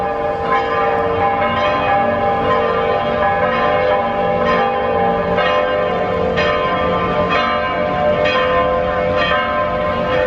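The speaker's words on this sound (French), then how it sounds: "celle des cloches de la ville de Rome" Church bells of Rome ringing near Piazza del Popolo, a loud sustained clangor of overlapping peals with rhythmic strikes continuing throughout.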